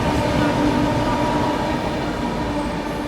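Lichchavi Express passenger train on an Indian railway line, rolling steadily after pulling out of Fatehpur station, with a continuous loud rumble of wheels and carriages and faint rhythmic clatter throughout.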